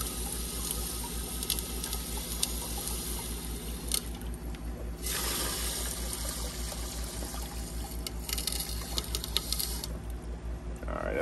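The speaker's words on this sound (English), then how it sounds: "All right, that's enough water in that aquarium." Water pours and splashes steadily into an aquarium in a fish room, a continuous close rushing with gurgling surges, no voices.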